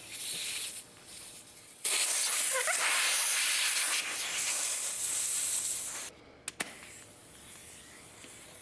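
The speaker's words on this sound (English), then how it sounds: "I'll inflate the tire to the pressure is required, which is 60 PSI" Compressed air hisses loudly into a wheelbarrow tire being inflated to 60 PSI in a garage after sealant treatment. The hiss is continuous and strong for a few seconds, then cuts off, followed by short sharp puffs.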